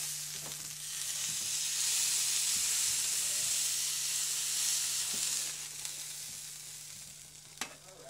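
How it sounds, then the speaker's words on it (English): Beef sears in a little oil in a pan over a burner on high heat, a steady close sizzle and hiss with occasional light stirring clicks, no voices over it. "with searing, you want just a little bit of oil in there and a really high heat"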